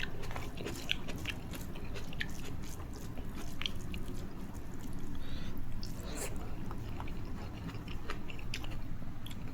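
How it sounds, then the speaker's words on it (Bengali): Close, quiet chewing of a mouthful of food eaten with salad, a steady run of soft crunches and bites over about ten seconds with no talking. "একটু দেখি, একটু সালাদ দিয়ে খাই কীরকম লাগে।"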